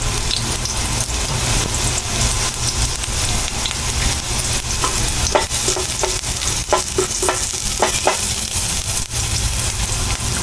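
Cooking oil spattering loudly in a pan while sautéing for a mussel dish, a dense continuous close sizzle with scattered sharp pops and utensil scrapes, no talk.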